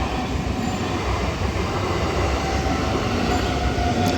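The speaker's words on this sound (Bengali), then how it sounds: "এখন ট্রেন যাচ্ছে।" A train rumbles past close by, a loud continuous roar of wheels and carriages with faint metallic squeals, no voices.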